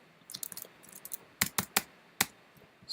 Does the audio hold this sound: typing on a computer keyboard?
yes